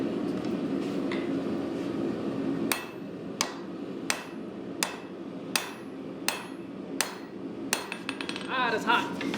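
A hammer forges the tang of a steel katana blade with a series of sharp, ringing metallic blows spaced about a second apart over a steady background hum, ending in a quicker run of strikes.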